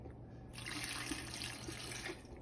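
Hot water from boiling dried chilies is poured steadily into salsa for a spicy red sauce, a continuous close liquid splash and trickle lasting about two seconds with no talking.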